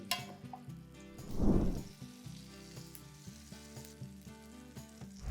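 Carrot, cherry tomatoes and onion hit hot herb garlic butter with a loud sizzling burst around the middle, then settle into a steady, quieter frying hiss with a low hum underneath.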